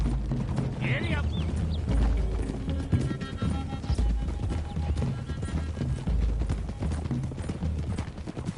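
Horses galloping in Red Dead Redemption 2, a loud, rapid stream of hoofbeats from several riders at speed, with jangling tack and a brief whinny, continuous and close under game sound.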